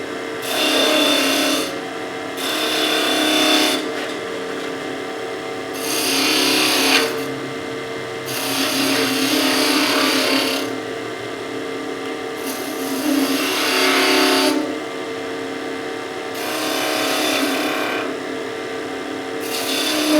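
A skew chisel cuts a round-over on wood spinning on a lathe, with rasping scraping bursts of several seconds each alternating with quieter spinning hum, loud and close.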